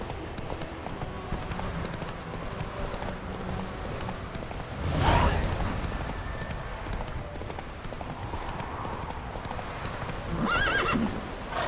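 A horse gallops in The Witcher 3, its hooves in rapid clip-clop over a continuous background bed, with a loud whinny midway and a second swell near the end, close and without speech.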